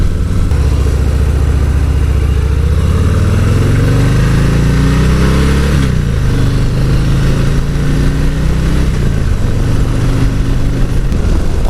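A 2018 Harley-Davidson Heritage 114 with throttle-by-wire pulls away and accelerates smoothly, its deep engine note rising steadily with a brief dip around a gear change, loud and close over constant wind roar.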